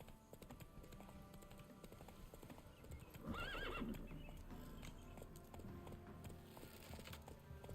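Roach, a horse in The Witcher 3 video game, gallops with a quick, rapid clip-clop of hooves and gives a short whinny midway, faint and steady throughout.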